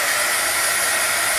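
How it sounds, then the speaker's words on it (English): A heat gun blows hot air over wet paint on a journal page, a steady close, loud rushing hiss with no break and no talking. "I'm going to hit this with the heat gun just a smidge."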